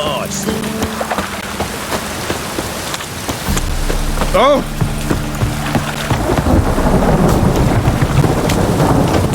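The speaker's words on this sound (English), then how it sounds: "A storm, damn it." Steady rain hisses beneath a rolling rumble of thunder in The Witcher 3, the downpour growing heavier and louder partway through, with a voice and other game sounds mixed in.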